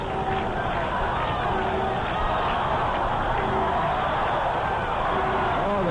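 A baseball stadium crowd of about 20,000 at a Mets–Padres game, roaring steadily to keep a San Diego Padres rally going, a dense continuous wash of cheering and babble with distant whoops throughout.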